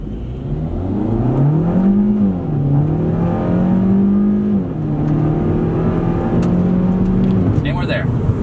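Kia Forte GT floored from a standstill to 60 mph, its engine note climbing steadily through several gear shifts, loud and close from inside the cabin over constant road and wind roar.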